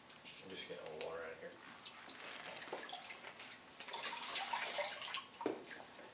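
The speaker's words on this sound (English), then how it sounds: "I'm just getting a little water out of here." Water is scooped and bailed out of a naval architecture lab tank, giving irregular splashes, drips and sloshes at close range, with brief voices heard under the water sounds.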